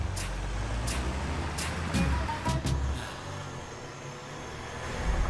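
Motor vehicle in motion with a continuous low engine rumble and road noise, a few sharp clatters and a brief hiss partway through, moderately quiet throughout.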